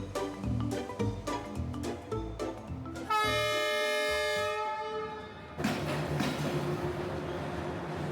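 A sleeper train's horn blares steadily after rhythmic clacking of wheels on rails, then loud rumbling rail noise continues as the train departs Hanoi bound for Sa Pa.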